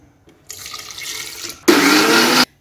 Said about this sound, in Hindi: अब मैं डालूंगी आधा कप ठंडा पानी।